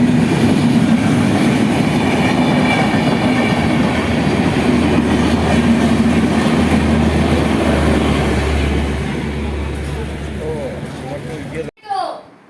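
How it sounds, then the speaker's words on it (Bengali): Loud, continuous rumble and rattling clatter of a passing train close by in North Bengal, fading near the end before a brief burst of talk. "দেখ ট্রেন যাচ্ছে"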